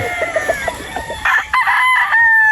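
A rooster crows loudly and close by, with a drawn-out call after some clucking from fowl, and no talk.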